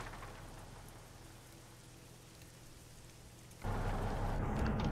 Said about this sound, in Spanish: Sí, está lloviendo, está lloviendo.